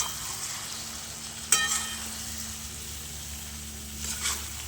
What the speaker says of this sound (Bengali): এবার এটাকে নাড়াচাড়া করে আর একটু কষতে দেবো।